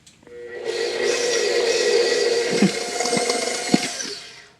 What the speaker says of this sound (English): I'm going to mix it slowly, and then I'm going to mix it up higher until it's well blended